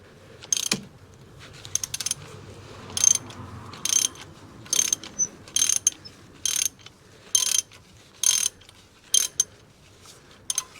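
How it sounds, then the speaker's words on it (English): A half-inch ratchet with an extension and 5/8 socket undoes a bolt on a BMW N52 engine during spark plug and ignition coil work. About ten crisp bursts of ratchet clicking repeat at a steady pace, close and clear, with no talking. "I got my 1/2 inch ratchet, 1/2 inch extension, and a 5/8 socket"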